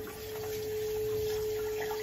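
Water runs steadily from a household tap in a home kitchen, giving a continuous moderate hiss. A constant low hum sits beneath it, and no one speaks.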